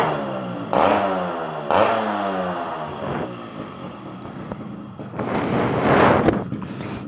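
A 1999 Yamaha RX 135 two-stroke motorcycle starts up and revs, loud close bursts of rising engine blips separated by a choppy idle, with a final longer rev near the end.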